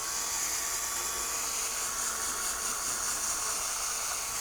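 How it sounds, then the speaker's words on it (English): A polishing pad buffs a plastic headlight lens from a BMW or MINI with compound, making a steady, close whirring hiss with a high motor whine that holds constant throughout, with no talking. "apply a little bit more compound. And continue to polish."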